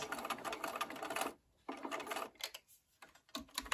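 Sewing machine stitching a Y-seam on a LeMoyne Star quilt block, running in steady rapid bursts with short pauses between, close and clear with no talking.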